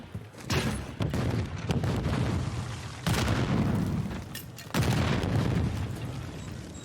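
Several deep booms and rumbling bursts from grenades and gunfire in a Call of Duty match sound loud and close, each swelling and then trailing off, under faint background noise.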